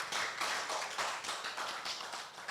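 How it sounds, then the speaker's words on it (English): Audience at a real estate stakeholder conference gives a sustained round of applause, dense steady clapping with no talk over it. "Please let's give them a round of applause one more time."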